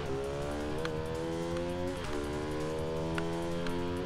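Race cars in a racing video game roar steadily throughout, with engine tones rising and shifting as cars accelerate and change gear, loud and continuous with no talk over them.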